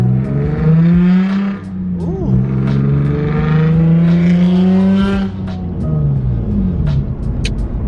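A Nissan 350z four-door with a loud aftermarket exhaust revs and accelerates hard close by, with a deep droning roar that climbs and shifts pitch repeatedly over several seconds.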